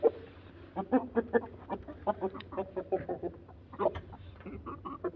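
A rooster and hens cluck in quick, uneven bursts, several birds chattering close by in a steady, busy stream of short calls.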